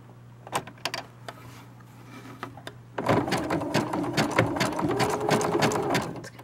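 A sewing machine runs a zigzag stitch along a blanket seam, starting with a few faint clicks and then whirring steadily and loudly for several seconds with a rapid mechanical rhythm.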